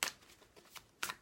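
Tarot cards rustle and slide as one is drawn from the deck, a few crisp brushing swishes close up in a quiet room.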